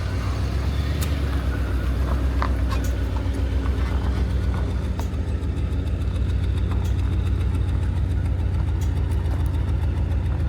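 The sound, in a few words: 1995 Cadillac Seville engine running with new mufflers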